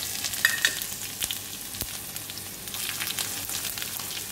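Spices crackle and sizzle in hot oil, a steady hiss with scattered pops and a few sharp clinks, close and moderately quiet, as ginger and tempering spices fry for South Indian kuzhi paniyaram.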